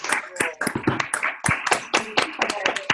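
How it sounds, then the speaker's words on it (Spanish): Sparse applause from a small group at the close of a medical hospital conference session, with individual claps scattered and uneven, close to the microphone, and some voices mixed in. "Van a hacer un aplauso general"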